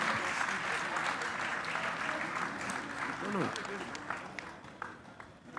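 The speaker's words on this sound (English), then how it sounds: "A big round of applause for the president" A large conference audience at a Liberian diaspora gathering applauds the president, a thick, sustained roar of clapping with crowd voices mixed in, easing slightly toward the end.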